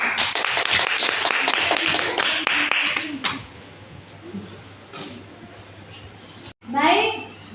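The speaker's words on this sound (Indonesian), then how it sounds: "tepuk tangan untuk Zena" Short burst of classroom clapping from pupils for a classmate, fairly loud and dense for about three seconds, followed by a teacher speaking.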